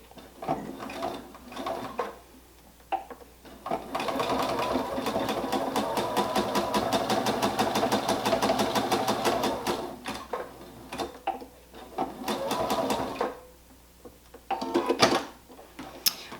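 A sewing machine stitching a jersey baby hat runs in steady rapid bursts, a close rhythmic mechanical chatter lasting several seconds at a time, with short pauses and fabric handling between runs.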